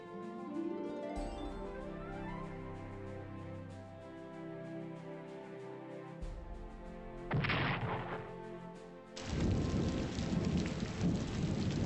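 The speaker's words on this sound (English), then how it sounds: "The rain comes." Steady rain hisses in the strategy game Strategic Command: American Civil War during a Mexican-American War scenario, layered over game music with bursts of louder noisy rumble near the end; no talking.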